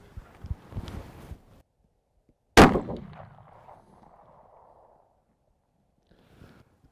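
A single loud rifle shot cracks out while a rifle is sighted in at 200 yards for a Saskatchewan bison hunt, followed by a fading outdoor echo, with faint rustling and handling noise before it.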